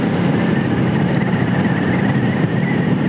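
A motorcycle engine drones steadily while riding, close and loud, a continuous low rumble with wind noise and no talk.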